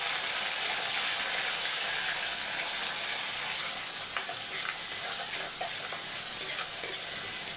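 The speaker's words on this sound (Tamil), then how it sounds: "அப்படியே வதங்கட்டும். வெங்காயம் வந்து பாதி வதங்கினா போதும்." Small onions, garlic, a green chili and curry leaves sautéing in hot oil, a steady loud sizzle running throughout with occasional light stirring scrapes and crackles on top.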